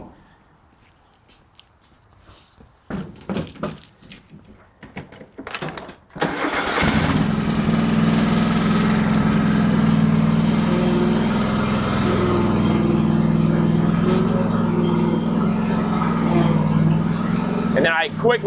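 A Craftsman DLT 2000 riding mower is cranked over with a few sputtering pulls and then catches, its engine settling into a loud, steady running drone close by.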